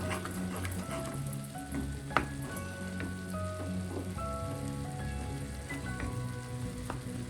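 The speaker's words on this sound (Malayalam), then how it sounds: "നല്ലതുപോലെ തിളയ്ക്കാൻ തുടങ്ങിയിട്ടുണ്ട്" A prawn and shallot curry bubbles in a pan, a continuous soft popping and spattering like light rain, with one sharp tap and no talking.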